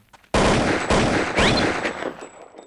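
Gunfire from Counter-Strike: Condition Zero on the Dust II map, in three loud, close shots about half a second apart, each followed by a short ringing tail, with no talking.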